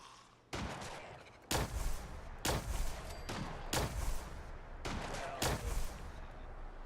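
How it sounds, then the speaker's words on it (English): Sniper rifle fire in a post-apocalyptic wasteland shooter: a series of about six very loud, sharp gunshots spaced roughly a second apart, each with a booming tail over steady background ambience. "That gun sounds insanely loud."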